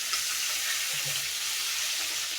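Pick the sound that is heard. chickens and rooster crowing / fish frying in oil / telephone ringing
fish frying in oil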